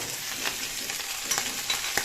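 Okra and eggplant fry together in a pan, a soft, steady sizzle with a few light stirring scrapes, close and fairly quiet.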